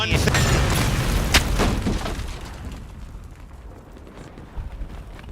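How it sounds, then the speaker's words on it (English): Heavy booms and crumbling destruction from the video game Battlefield 6, a loud blast with debris falling early on, then settling into quieter rumbling and scattered impacts. "Big Booms and Cataclysmic Destruction looks nice for the traders."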